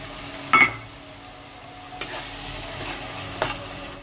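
Spices soaked in water are frying in hot oil in a pan, a steady close sizzle broken by three sharp stirring scrapes.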